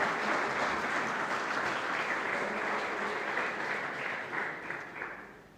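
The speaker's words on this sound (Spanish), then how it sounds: "dale un aplauso al Señor" A church congregation applauds during a sermon, a steady, fairly even roar of many hands clapping that holds for several seconds, then slowly tapers off toward the end, with no speech over it.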